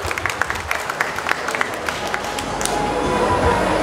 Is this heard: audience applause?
yes